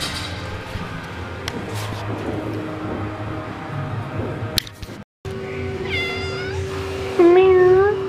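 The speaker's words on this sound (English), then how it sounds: "He's the shop cat here." A shop cat meows loudly and close in a garage workshop, several drawn-out, wavering cries coming in the final seconds after a stretch of background noise and shuffling, with a brief cut to silence in between.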